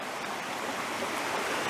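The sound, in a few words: river stream flowing over rocks during a crossing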